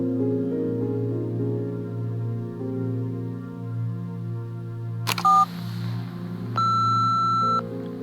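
A short electronic tone and then a longer steady beep play from voicemail playback in the video game Nobody Wants to Die, over a low ambient musical hum.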